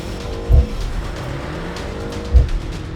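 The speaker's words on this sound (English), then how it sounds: "launch control active, go!" BMW M135 hatchback launching hard from a standstill under launch control in sport mode, a steady engine roar with two brief low thumps as it pulls away, close and loud with no talking.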